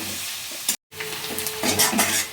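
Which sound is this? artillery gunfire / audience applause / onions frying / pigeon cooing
onions frying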